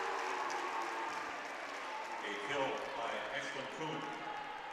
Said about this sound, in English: And you hear the Hudson crowd with the Kuhn chant